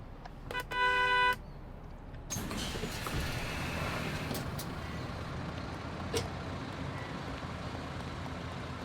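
A bus door opening in the game Bus Simulator 21: a short beeping chime, then a loud pneumatic hiss that settles into a steady engine idle with a faint click later.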